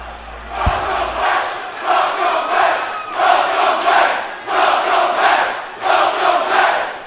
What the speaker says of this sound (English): There was a hot crowd in South Philly, and they popped huge when he showed up